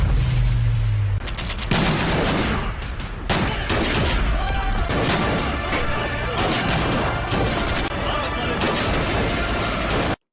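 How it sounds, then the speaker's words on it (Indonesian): Gunfire rattles through a film shootout at a mafia hideout, with dense bursts of shots, crashes and impacts packed continuously from start to finish at high, steady loudness. "Arka terlebih dahulu mendatangi markas Malik dan baku tembak pun terjadi."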